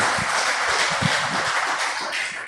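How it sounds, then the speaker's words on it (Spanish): A church congregation applauding, a dense, even wash of clapping hands that fills the room continuously for a couple of seconds, loud and close, with no speech over it. "denle un aplauso a Dios"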